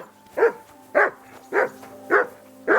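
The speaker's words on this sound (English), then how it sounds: "That barking was a pain in the ass." A dog in Kingdom Come Deliverance 2 barks five times at an even, steady pace, each bark loud and close with brief quiet gaps between, and no talk over it.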